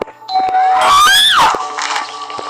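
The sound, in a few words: doorbell ringing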